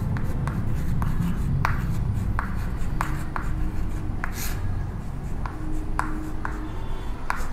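A pen or chalk writes on a board in an electrochemistry lesson, with a rapid series of short scratchy strokes and taps at close range and no talk.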